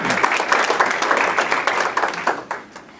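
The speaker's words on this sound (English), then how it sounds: "I would just like to take time out to applaud those individuals as well for their continuous support for our pilot" An audience at a university birthday event gives dense, sustained applause, many hands clapping at once, that thins and fades out near the end.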